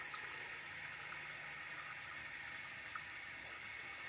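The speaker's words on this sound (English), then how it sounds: "I just let the tank fill" A 1995 Eljer Savoy toilet tank refills with water after a flush, a steady, even hiss of rushing water that holds at the same level throughout with no talking.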